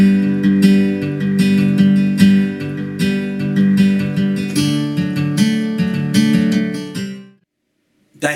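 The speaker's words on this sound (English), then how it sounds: "That's the sound of acoustic guitar." Acoustic guitar strummed in a rhythmic pattern, bright and close, playing for about seven seconds before ringing out into silence.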